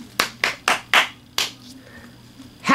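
Five sharp, close hand claps in a quick uneven rhythm, loud and distinct against a quiet room, followed by a pause and a faint noise at the end.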